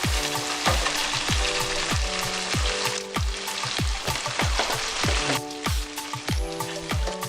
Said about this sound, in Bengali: পনিরগুলোকে অ্যাড করে আমরা কনস্ট্যান্টলি নাড়াতে থাকবো